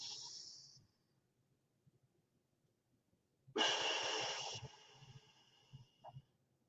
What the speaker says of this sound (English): You would do deep breathing, right?